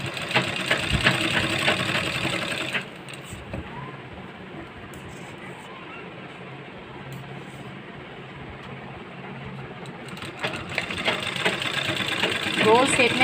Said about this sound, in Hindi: इस तरह से थोड़ा थोड़ा स्टेप लेकर सिलना, ताकि इसमें झोल वगैरह ना आए